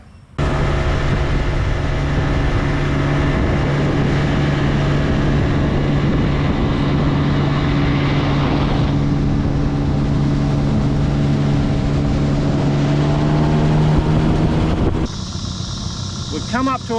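A boat motor runs on the water during a trip to check crab traps, droning as a steady, loud hum for most of the time before its pitch and tone shift near the end.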